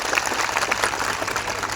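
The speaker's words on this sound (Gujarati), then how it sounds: "મીડિયા મિત્રો માટે એકવાર જોરદાર તાળીઓ પાડી લો" A crowd at an outdoor public rally to save the Aravalli hills claps loudly and continuously, a dense, steady patter of many hands close by, with no voices over it.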